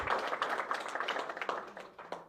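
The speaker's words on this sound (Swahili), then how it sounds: "Makofi mengi sana kwa Simba Sports Club." Brief applause for Simba Sports Club at a sponsorship signing event: quiet, scattered hand claps from a modest crowd, tapering off toward the end.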